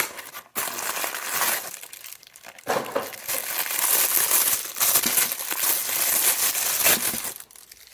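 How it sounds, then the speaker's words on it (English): Packaging paper from a Hasbro Marvel Legends action figure box crinkles and crumples up close, loud and continuous with brief pauses, rustling in bursts over about eight seconds. "there goes the Hasbro papers again"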